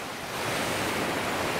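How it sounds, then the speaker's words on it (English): Waterfall with around twenty streams and forks rushing down along the Hornbeck Trail, a steady, dense roar of falling water close by, with no voices. "Maybe 20 different streams and forks off that waterfall"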